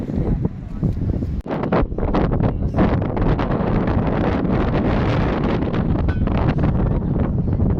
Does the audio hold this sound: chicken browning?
no